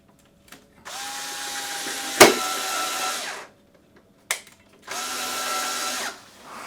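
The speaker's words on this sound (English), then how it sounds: "I use a screwdriver, electric screwdriver, just for easy use." A cordless electric screwdriver drives self-tapping screws in two whirring bursts of about two seconds each, with a sharp click in the first burst and a brief tap in the gap between them, close and loud.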